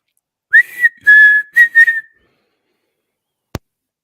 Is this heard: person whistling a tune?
yes